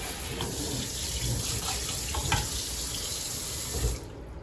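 Running water pours from a Hurran kitchen faucet sprayer into a sink, a steady close hiss and splash that continues unbroken and cuts off abruptly near the end, with no voices.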